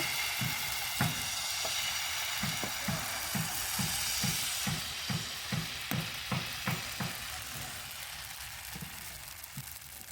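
Thin batter sizzles in a hot pan for patishapta pitha, a Bengali crepe with coconut filling, a steady broadband frying hiss with a run of regular light clicks or taps through it, fairly close, no talk.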